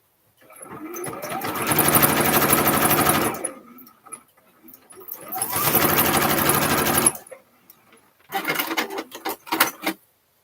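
A sewing machine runs in three bursts, two long steady runs and a shorter choppy one, joining scrappy quilt-as-you-go bag pieces with a quarter-inch seam at maximum stitch length; loud and close with no talk.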